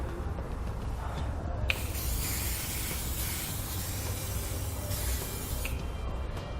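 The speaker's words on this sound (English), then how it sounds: "So you can take a little bit of spray lubricant. We're going to spray them down." Spray lubricant hissing from an aerosol can onto rubber exhaust isolators under a 2014 Jeep Compass, a continuous close spray in a few longer bursts over a steady low background rumble.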